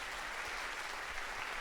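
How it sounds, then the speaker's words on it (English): Brief, steady applause from an audience at a talk event, an even wash of clapping at moderate distance with no voices over it. "A big round of applause for Mawfaq as well,"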